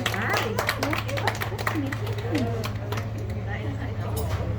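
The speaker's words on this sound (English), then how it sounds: "Let's all give a big round of applause for candy cane number 1" An audience at a candy-making demonstration gives a round of applause, a patter of scattered claps close by layered over a steady background hum, with people talking through it.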